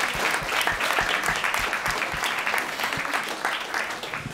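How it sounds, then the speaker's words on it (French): Sustained applause from a conference audience on sport and health, steady dense clapping with a few louder low thumps, continuous for the whole stretch with no talk over it. "On peut applaudir Arnaud quand même,"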